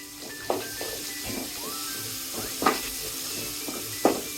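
Chicken frying in a pan with green chilli, cumin, ginger and garlic pastes gives a soft steady sizzle, broken by a few sharp scraping stirs of a spatula against the pot at intervals.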